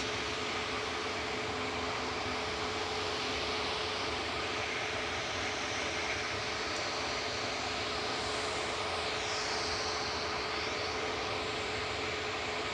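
A TUI airliner on flight 316 at Manchester Airport gives off a steady, distant engine drone with a faint whine, heard alone beneath broad background hiss.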